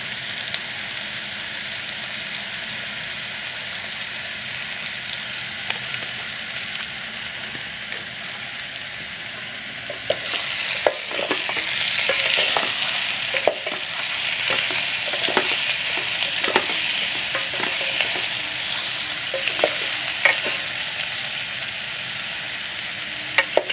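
Food frying in a pan as salt is added, a steady sizzle that grows louder halfway through as stirring begins, with repeated scraping and clinking strokes up close.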